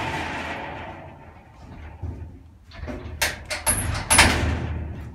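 A car's passenger door on a 1964 Mk1 Mini shuts with a couple of sharp thuds and rattles midway, preceded by quieter shuffling and handling noises.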